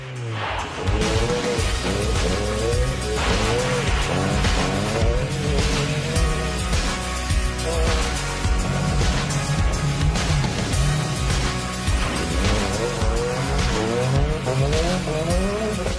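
A rally car driven hard along a bumpy gravel road, its engine droning loudly and continuously with changing revs and tyre noise throughout, close and dominant with no talk.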